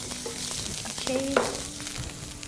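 Garlic and ginger frying in oil for a meatball sauce, a close, continuous sizzle with a few stirring clinks and scrapes partway through.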